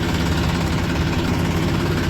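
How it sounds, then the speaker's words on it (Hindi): A Mahindra tractor engine runs steadily close by on a foggy morning sugarcane haul, a constant low throbbing drone with no pauses. "एक ट्रैक्टर और आ गया महिंद्रा"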